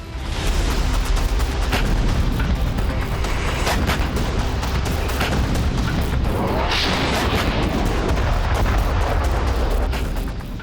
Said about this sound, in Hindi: जिन मिसाइलों के धमाके हो रहे हैं, जैसे बम फट रहे हैं